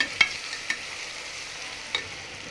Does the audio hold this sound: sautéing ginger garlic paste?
yes